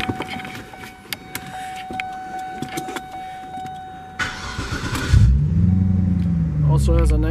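A 2006 Cadillac XLR convertible's engine cranks and catches around the five-second mark, then settles into a loud, deep idle with a throaty rumble through an upgraded exhaust, after brief clicks and a voice.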